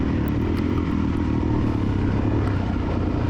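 A Suzuki DRZ400E dirt bike engine works steadily during a cross-country race, a loud, buzzing drone close to the rider, with faint clatter over the top and no pauses.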